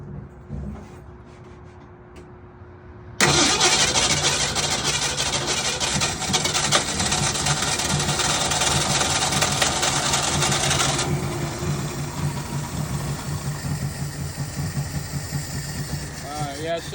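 A 1965 Ford Mustang engine with a carburetor needing a rebuild cranks and catches abruptly, then runs at a loud, rough idle that eases slightly toward the end, with people talking over it.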